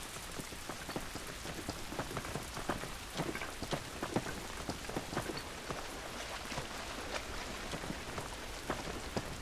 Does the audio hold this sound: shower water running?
no